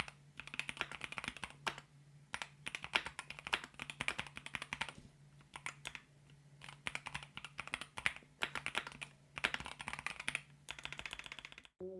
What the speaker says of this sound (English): And now, just listen how it sounds. A good quality, expensive mechanical keyboard.